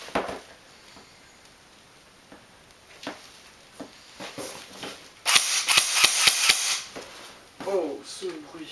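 An airsoft gun from a Taiwangun order fires a scattered series of sharp, snappy cracks, several of them bunched in a quick burst, close by against a quiet room background.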